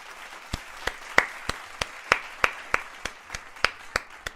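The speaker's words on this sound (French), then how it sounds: "ça mérite des applaudissements." Steady, sparse hand clapping, about three claps per second, crisp and fairly close, like a small group or single person applauding.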